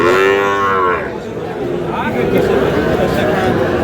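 Sahiwal bulls at a farm in Cumilla low loudly and close by in one drawn-out moo, with murmuring voices and general crowd noise continuing underneath and afterward.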